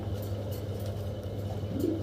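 Fancy pigeons coo in a low, steady, throaty murmur, close by, with a few faint rustles and chirps over it.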